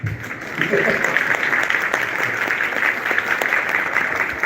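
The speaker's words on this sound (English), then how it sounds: "Now you can clap." An audience at an AI seminar claps after a presentation, a steady wash of applause at a fairly even level throughout, with faint voices underneath.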